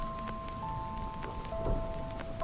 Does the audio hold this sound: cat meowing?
no